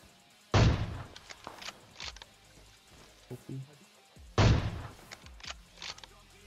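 Sniper rifle shots in the video game PUBG: two loud, heavy reports spaced about four seconds apart, each followed by faint mechanical clicks and softer thumps in a fairly quiet scene.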